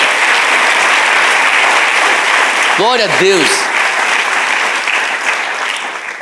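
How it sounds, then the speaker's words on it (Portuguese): A church congregation claps steadily in a loud, sustained wave of applause, while a voice briefly calls out over it partway through. "Dá uma salva de palmas para Jesus por isso."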